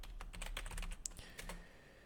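Rapid keystrokes on a computer keyboard clatter in an uneven burst of clicks, typing a search query up close, with no talking.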